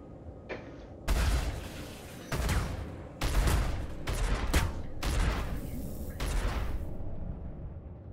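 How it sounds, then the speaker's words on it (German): Gunshots in a Starfarer ship's cargo hold in a video game: a series of loud, booming shots and short volleys heard from nearby, separated by brief gaps over a few seconds. "wenn die selber jetzt gerade durchs Cockpit durchschießt, kommt hier hinten im Laderaum ein Schuss an"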